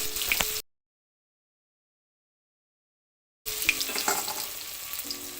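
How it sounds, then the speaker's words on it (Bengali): Pitha cakes crackle and sizzle as they fry in oil, with a busy close-up spitting texture that cuts out into a few seconds of silence before the frying resumes just as loudly. "তেলে পিঠে বানাচ্ছি"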